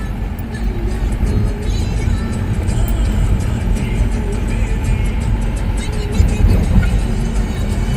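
Fast vehicles driving along a road near Nagpur's Jamtha airport, a continuous loud traffic roar with wind buffeting and passing surges, one louder pass near the end.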